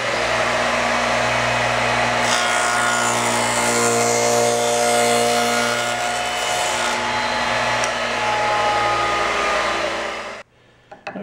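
A power tool such as a router cuts rabbets into wooden table rails for a butterfly leaf table, giving a loud, steady whine with bright friction hiss for about ten seconds before stopping abruptly.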